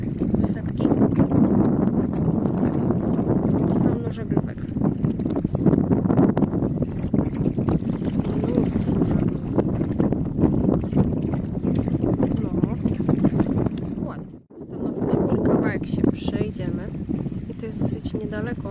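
Strong wind on a dog beach buffeting the microphone in a steady low roar, easing briefly before gusting again, with voices heard at times.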